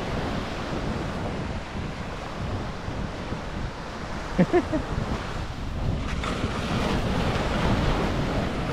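Sea waves washing onto a beach with boats nearby, a continuous close rumbling surf with strong wind buffeting, and a brief knocking sound midway.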